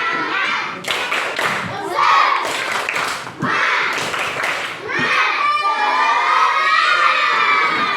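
Schoolchildren in a classroom do the rhythmic tepuk semangat clap, sharp patterned bursts of group clapping mixed with loud children's chanting and cheering voices, close and lively throughout.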